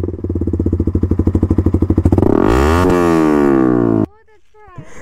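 A KTM Duke motorcycle engine revs hard with a pulsing, rising roar, holds loud for a couple of seconds, then cuts off, leaving faint background sounds.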